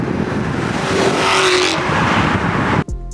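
A 2006 Porsche Cayenne S Titanium Edition with a naturally aspirated 4.5-liter V8 runs loud and steady, with a rising rev in the middle, before cutting off abruptly near the end.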